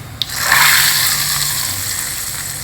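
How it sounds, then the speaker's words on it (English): Hot ghee tempering with mustard seeds, hing and jeera is poured onto amla rasam, giving a brief tap and then a steady close hissing pour that continues for a couple of seconds. "Pour this tempering on top of the rasam."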